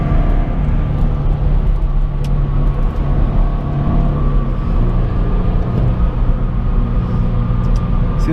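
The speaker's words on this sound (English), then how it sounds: "See, this car doesn't sound too bad." Subaru BRZ engine droning steadily while driving on the road, a loud constant low rumble with road and cabin noise and no voices.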